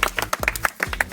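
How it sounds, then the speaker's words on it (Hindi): An audience at a spoon-game contest claps loudly in a quick, rhythmic run of about seven sharp, close claps. "तो निहाती हो ताली दे जोरदार"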